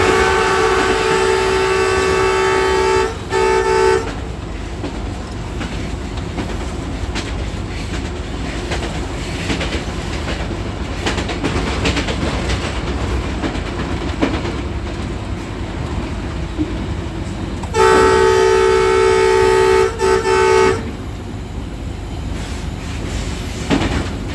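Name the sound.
Green Line train running, Rawalpindi to Lahore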